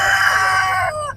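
A rooster at a Friday chicken market in Quetta gives a single loud, near crow that holds steady, then fades out, with no talk over it.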